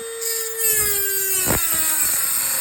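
A power tool grinds into an exhaust pipe near the flange, throwing sparks, a high whining tone with a short harsh cutting burst partway through, close and alone.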